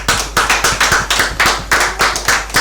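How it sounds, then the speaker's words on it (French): Close, loud clapping in a studio show beats out a regular, rhythmic pulse of distinct hand claps, with no talk over it. "donc ça s'applaudit s'il vous plaît"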